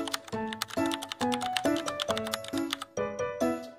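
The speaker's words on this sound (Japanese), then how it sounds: "タイピング音聞くの。" Keyboard typing in the Toca Life World game, a steady run of crisp, evenly paced key clicks with short gaps, fairly quiet and alone without any talking.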